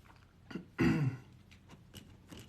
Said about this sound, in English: I'm gonna get the coughing out of the way.